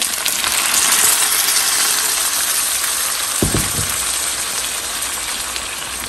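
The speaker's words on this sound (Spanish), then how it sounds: "Le vamos a agregar la salsa que licuamos." Blended sauce poured into a hot pot, a loud steady sizzling hiss with a brief splash partway through, close and continuous, no talk.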